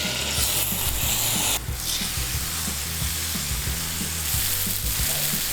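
Deboned chicken frying in a little olive oil in a big, heavy skillet over fairly high heat, a steady loud close sizzle with a brief sharp burst as a piece goes in, no talk.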